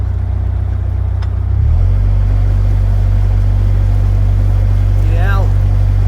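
A narrowboat's engine on the River Thames in a strong stream starts up and settles into a loud, steady low drone that runs unbroken, with a brief voice near the end.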